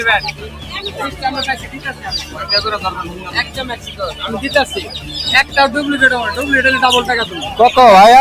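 Tiger chickens cluck and call at the busy Tongi bird market in Bangladesh, their voices mixed into a constant din of nearby talk and market noise.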